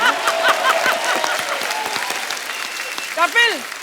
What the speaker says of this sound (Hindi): एक बार हमारी ऑडियंस के लिए भी ताली हो जाए।